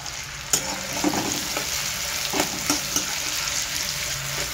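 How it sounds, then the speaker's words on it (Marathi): Onions frying with garlic in a pan for pav bhaji, a constant close sizzle punctuated by occasional spatula scrapes and knocks against the pan. "आणि लसूण टाकल्यानंतर आपल्याला हे कांदे टाकावे लागतील।"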